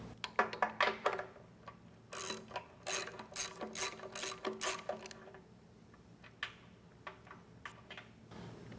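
A ratchet wrench removes 3/4-inch nuts from a hydraulic motor on a Lindgren-Pitman Super Spool III longline reel, its rapid clicking pawl heard in close, repeated bursts separated by short pauses, fading into quieter scattered clicks.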